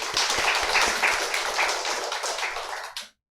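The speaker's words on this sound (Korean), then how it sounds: "박수로 환영합니다." Congregation applause in a church during a morning worship service, welcoming a first-time newcomer; dense, steady clapping from many hands fills the room for about three seconds, then stops abruptly.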